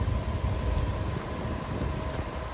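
Rain pours during an outdoor run, a dense steady hiss over low rumbling gusts of wind, continuous and fairly loud with no talking.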